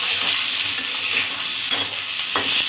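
Garlic and cumin seeds frying in hot oil for Anantapur-style gongura chutney, a steady close hiss with faint crackles and a few soft stirring scrapes, no voices.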